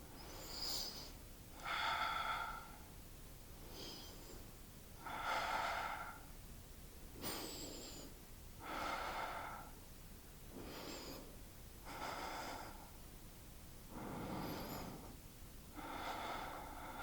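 Slow, deep breaths during a yoga pose with the hips lifted, a calm, faint rhythm of about five inhale-exhale cycles, each soft airy breath spaced a few seconds apart.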